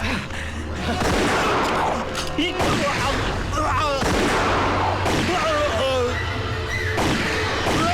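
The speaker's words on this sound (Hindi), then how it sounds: "ऑफिसर सलमा खान को गोली चलाने का पूरा हक है" Loud bursts of gunfire crack repeatedly in a Hindi film scene, a chaotic, dramatic mix with shouting voices and music, dense and close throughout.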